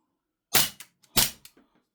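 A GHK Glock 17 Gen5 airsoft pistol fires two crisp, snappy shots about half a second apart. Each pop is followed by a quick mechanical clack of the slide, and the shots stand alone in otherwise quiet surroundings.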